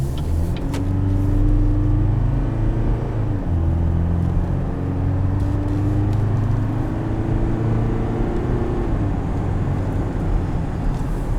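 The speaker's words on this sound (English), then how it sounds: "This turbocharged 4-cylinder diesel produces 369 pound-feet of torque." A 2018 GMC Canyon Denali pickup with a turbocharged four-cylinder diesel drives along, its engine drone and road rumble steady and close, rising slightly in pitch as it pulls.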